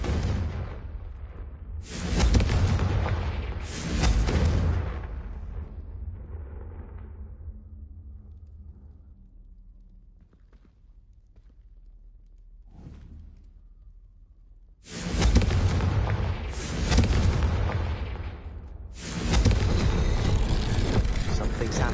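A Confringo fire spell from Hogwarts Legacy bursts in loud, broadband blasts, two near the start and three more later, with quieter game ambience between them.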